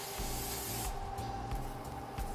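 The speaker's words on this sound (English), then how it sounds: "I'm gonna spray these grates a little bit." Short hissing bursts of cooking spray hit the grates of a Kalamazoo outdoor grill, close and fairly quiet, a few quick sprays in succession.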